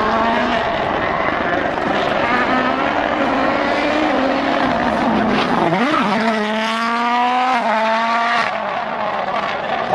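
A WRC rally car driven flat out roars past, its engine note climbing and shifting through gears with a clear Doppler swing as it passes, while a commentator talks over it.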